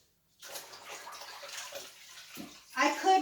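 Clothes are washed by hand in a kitchen sink, with water sloshing and splashing for about three seconds, growing louder toward the end, while a voice talks faintly underneath.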